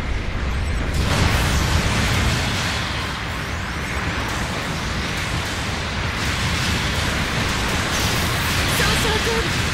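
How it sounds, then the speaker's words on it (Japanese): Gundam Battle Operation 2 support artillery bombardment, a dense roaring wall of explosions and rumbling blasts that stays loud and continuous throughout, with a voice speaking over it. "後方部隊からの支援砲撃が来ます。"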